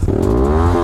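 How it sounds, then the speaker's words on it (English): A motorcycle engine revs loud and close, its pitch climbing steadily through one short burst of throttle with no talking over it. "I rev it."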